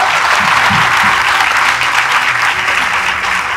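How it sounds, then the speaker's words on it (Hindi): Dense, loud applause from a large crowd at a talk on drone technology careers, a steady wash of clapping that holds evenly throughout. "एक बार किसानों के लिए तालियां बजा दो।"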